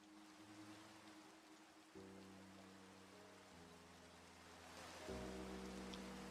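Soft steady rain hiss sits under slowed-down music, with sustained low tones that shift a few times, all faint and distant-sounding.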